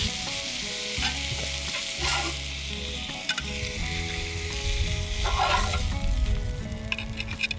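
Sous vide steaks searing in a pan, a steady close sizzle with bursts of louder crackle and spitting as the meat is turned, along with clunks of the utensil.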